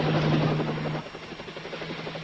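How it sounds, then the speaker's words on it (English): A crop-dusting helicopter flying, its rotor beating in a rapid rhythmic chop under a steady engine hum, loud at first and then easing slightly as it passes. "A helicopter coming out of the east in the rising sun."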